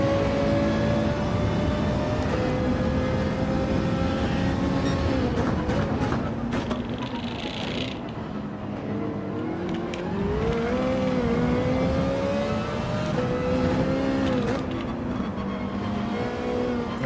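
Race car engines whine continuously in a racing video game during an online manufacturers cup qualifier, a loud sustained drone whose pitch rises and falls through shifts and revs, with other cars' engines layered close around it.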